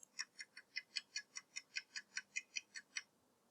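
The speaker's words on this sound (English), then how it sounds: "Listen to a clock ticking." A clock ticking steadily, about fifteen evenly spaced crisp ticks heard close but soft, alone in a quiet room before stopping.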